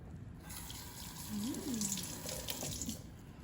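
Tap water runs steadily into a sink while rocks are burnished with soap and water, a continuous close splashing stream with a faint low tonal murmur partway through.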